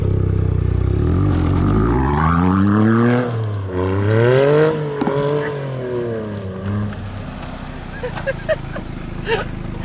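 A Toyota GR Yaris rally car is driven off-road, its engine revving up and down through several loud, rising and falling sweeps close by, with gravel noise and voices underneath toward the end.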